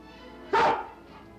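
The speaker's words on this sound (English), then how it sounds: "You're the smartest dog in the whole wide world." A dog in a television drama episode gives a single sharp, close bark that rises and fades after about a quarter second, with quiet background before and after.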